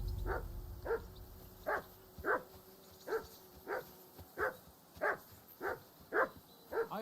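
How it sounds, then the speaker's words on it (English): A dog barks repeatedly in the medieval video game Kingdom Come: Deliverance II, about ten evenly spaced barks at moderate loudness over a quiet ambient background. "I assume you can hear that damn dog of yours barking."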